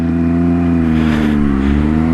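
A 2018 Triumph Speed Triple 1050 RS motorcycle with traction control switched off accelerates hard, its engine roaring loud and close with a steady rising drone throughout.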